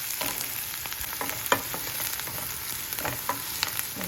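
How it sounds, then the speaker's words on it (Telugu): Onion pieces and a dried red chili fry in hot oil, giving a steady, close crackling sizzle with scattered sharper pops and occasional stirring scrapes throughout. "ఒక ఎండుమిర్చి ఉంచేసుకోవాలి, ఉల్లిపాయ ముక్కలు, ఆయిల్లో బాగా వేగనివ్వాలి"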